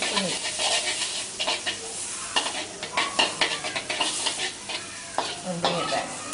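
Noodles stir-fry in oil during a Malaysian cooking class, hissing steadily while the tip of a ladle loosens them with repeated scraping and metallic taps against the pan; a faint voice is heard briefly.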